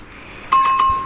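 A notification bell chime sound effect, a bright tone that rings once near and clear and then sustains as it fades slowly, with a couple of faint softer tinkles before it and no talking.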